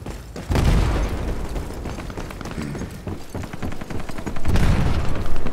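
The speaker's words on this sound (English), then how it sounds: "Oh, that's my nade in the middle of the room." Video game firefight with deep booming blasts from a grenade explosion at the start and end, rapid bursts of gunfire crackling loudly in between.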